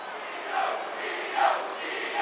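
A wrestling arena crowd in the WWE 2K22 video game roars in a continuous, far-off wash of cheering, swelling in brief waves and holding at an even, moderate loudness.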